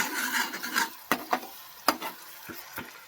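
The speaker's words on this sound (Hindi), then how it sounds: "दाल में तड़का लगा देंगे अभी" A tadka tempering for dal hisses loudly in hot oil, then fades into a few distinct scraping stirs and knocks of a spoon against the pan, close by and without speech.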